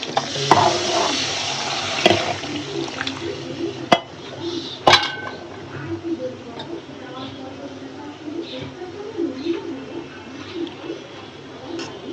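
Rui fish frying with spices in a pan crackles and sizzles steadily, with clattering spatula scrapes and a few sharp metal knocks, while a person talks over the cooking.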